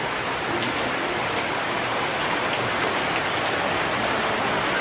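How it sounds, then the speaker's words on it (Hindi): Heavy rain pours steadily and densely, a loud continuous hiss of drops hitting surfaces close by, with no voices. "बहुत तेज़ बारिश हो रही है"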